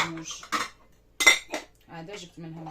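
A set of serving dishes is handled at home, with a few sharp clinks and clatters in brief separate bursts, mixed with a voice speaking.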